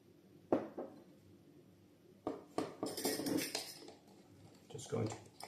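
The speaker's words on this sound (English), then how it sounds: "Just going to stir that together." Sourdough starter of flour and warm water being stirred in a container, with a spoon clinking and scraping in irregular bursts, close and fairly soft.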